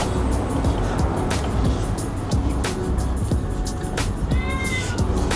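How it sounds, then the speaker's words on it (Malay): A cat meows insistently during a front brake pad change on a Honda CBR250RR motorcycle, amid loud rumbling motor and outdoor noise, with a few clanks in the background. "Bising pula kucing sebelah."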